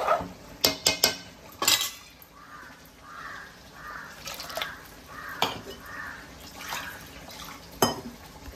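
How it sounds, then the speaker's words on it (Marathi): Mutton goes into roasted masala in a cooking pot and is stirred, giving scattered metallic clinks and scrapes with wet, squelching movement, while a crow caws faintly in the background. "आता आपण हे मटण टाकूया त्याच्यात. एकसारखं चांगलं ढवळून घ्यायचं."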